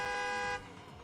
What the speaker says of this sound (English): The honking of a horn.